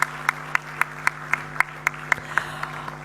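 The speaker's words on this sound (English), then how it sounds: "So give a round of applause just for you and for your achievements." Audience applause at a postgraduate convocation ceremony, a steady rhythmic round of clapping with distinct regular beats over a faint hum, fading slightly toward the end.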